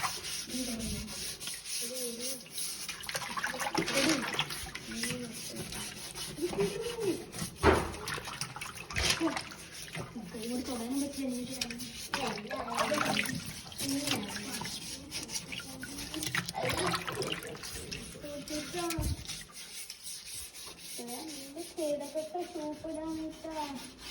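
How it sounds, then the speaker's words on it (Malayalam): A home aquarium tank with muddy gravel is washed out, giving irregular rubbing, scrubbing and sloshing water sounds at close range, with a person talking over them throughout. "ഇനി അടുത്ത പണിയെന്ന് വെച്ചാൽ നമ്മുടെ ടാങ്ക് കഴുകുക എന്നുള്ളതാണ്"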